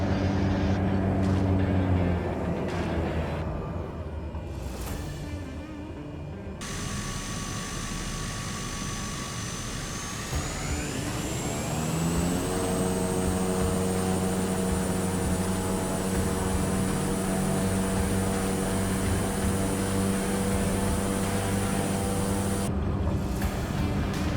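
Simulated aircraft engine in Microsoft Flight Simulator 2020 during a heavy takeoff from a short Idaho backcountry airstrip, a steady droning roar that climbs in pitch and builds, with a high whine sweeping upward midway.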